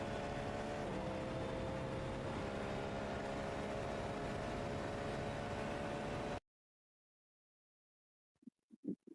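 A loud, steady hypercar race engine roar from a racing video game, with a constant tonal drone, runs for about six seconds, then cuts to silence before a few short bursts of sound.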